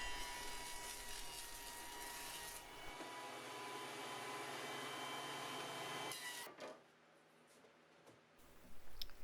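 Wooden boards pass through a jointer with a loud whirring cutter noise for several seconds that then drops away into a quieter hum and faint knocks.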